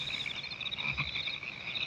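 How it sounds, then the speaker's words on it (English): Frogs croak in a steady, dense nighttime chorus from a 1956 Western film, a continuous pulsing trill that fills the scene with no voices. "I cannot stand frogs and toads, and that noise has given me the absolute fear."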